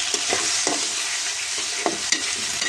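Ginger and garlic paste sizzling steadily in a hot pan for a village-style mola fish and dal curry, with repeated scraping stirs of a spatula breaking through every half second or so, close and continuous.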